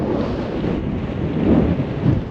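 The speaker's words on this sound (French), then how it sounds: "j'avais vu qu'il allait y avoir du vent, je pensais pas qu'il allait être aussi fort" Strong wind buffets the microphone on a gravel bike ride across open, unsheltered country, a loud continuous roar with gusty surges and no speech.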